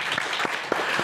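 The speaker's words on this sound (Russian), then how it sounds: "Ему аплодисменты." A studio audience at a televised regional evening show applauds a guest, a brief burst of clapping with a few sharper individual claps standing out.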